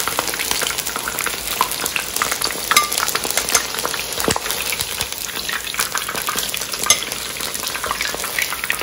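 Small chicken 65 pieces deep frying in hot oil, a steady dense crackling sizzle with bubbling spatters running throughout, close and fairly loud with no talking.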